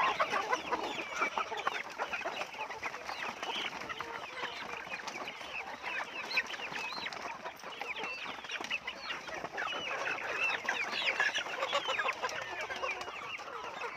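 A flock of native country chickens on a farm clucks and chatters steadily and densely throughout, a continuous busy mass of overlapping calls at moderate distance, with no talking.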